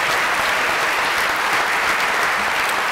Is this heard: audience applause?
yes